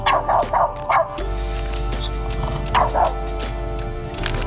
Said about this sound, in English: That's a French bulldog.